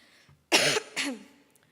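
Two coughs close to the mic during a conference talk, a longer harsh one followed by a shorter one after a brief pause.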